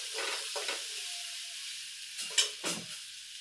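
Spices with garam masala are stirred and roasted in a pan, giving soft scraping strokes and a light sizzle in short bursts, close and fairly quiet with brief pauses.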